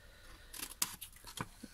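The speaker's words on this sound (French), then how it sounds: "avec mes ciseaux, je viens couper en biais" A few quick, quiet scissor snips cutting through paper, close by and irregularly spaced.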